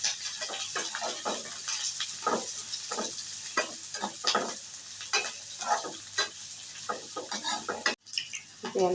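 Gobi chilli with capsicum frying in a pan, with a steady hiss and repeated scraping stirs at an irregular pace, close and fairly loud, briefly cut near the end.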